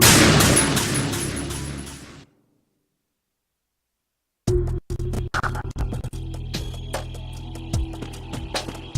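Metal Gear Solid 2 gunfire cracks out in sharp, loud shots and quick bursts, cutting off into a stretch of silence before resuming as intermittent volleys mixed with clatter and faint voices.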